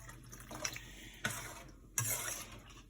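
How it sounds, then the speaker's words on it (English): Water pours into a cooking pot being filled for mixed vegetable rice, a steady liquid rush with a few sharper splashes and surges partway through, close and moderately loud, no talking. "I added 6 cups of water."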